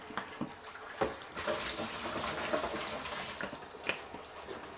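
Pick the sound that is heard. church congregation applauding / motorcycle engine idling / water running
water running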